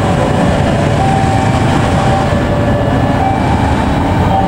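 A passenger train made up of new K1 coaches rumbles past at Cikampek station in a steady, loud broadband roar with faint wheel clatter, continuous and close throughout with no talk.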